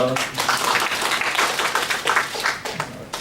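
Audience applause at a Korean public gathering announcing a statement for a decentralization constitutional amendment, steady dense clapping from a crowd throughout, with a voice briefly audible at the start.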